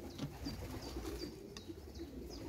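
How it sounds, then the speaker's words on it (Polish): Young pigeons coo softly in a loft, low murmuring calls repeating over a steady background hiss, faint and a little distant. "To są młode gołąbki"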